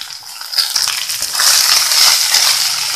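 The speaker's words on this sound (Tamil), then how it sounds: "வெங்காயம் எல்லாமே நம்ம சேர்த்துட்டு நல்லா வதக்கிக்கலாம்." Onions sautéing in a pan with mustard seeds and urad dal for onion carrot uttapam, a close, crackling sizzle that swells louder after a brief stir, with scattered pops and scraping, no voices.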